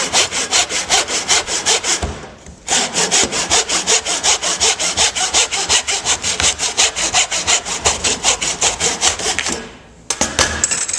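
A hand saw cutting wood held in a wooden cutting box, with fast rhythmic back-and-forth strokes, close and loud, pausing briefly twice before resuming.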